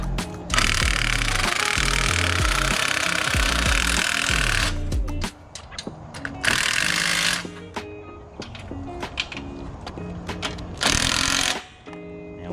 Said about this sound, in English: we're just going to tighten up these 3 bolts here with the rattle gun and the 19mm on the top.